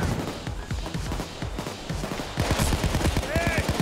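Rapid, dense gunfire crackles without pause in the heist shooter PAYDAY 2, many shots layered into a continuous fusillade. A voice speaks briefly over it toward the end.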